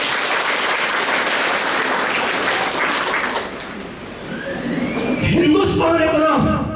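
An audience applauding at a stage program, loud continuous clapping for several seconds, then fading as a voice comes in over the tail of the applause.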